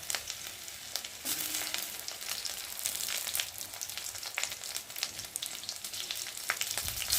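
Crushed garlic and green chilies fry in hot oil in a pan, a continuous crackling sizzle with sharp spattering pops and a brief clink of a utensil, steady and close with no talking.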